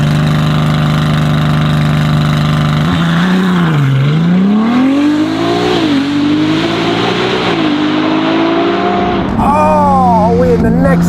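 A Ferrari 296 GTB fitted with a Novitec exhaust, its engine note climbing and falling through loud revs up close, with a steadier drone at the end and what sounds like a voice underneath.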